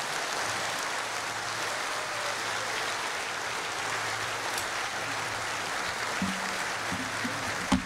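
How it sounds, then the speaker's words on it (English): An audience at a presidential inauguration ceremony in Guyana applauds the new president with steady, moderately faint clapping throughout, sounding distant and broad, with brief voices near the end. "I invite you to stand in applause"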